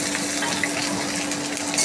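Chopped onions and green chillies frying in hot oil with whole dried chillies for a gima shak charchari, a steady close sizzle with a faint stirring scrape.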